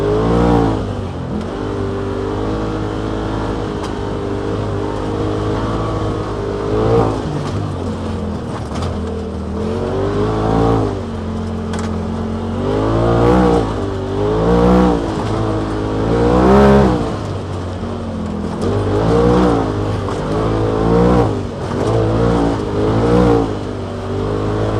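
A Polaris RZR XP Turbo running on E85 fuel climbs a trail hill in low gear, its engine droning loudly and steadily with repeated rises and falls in revs as the throttle is worked.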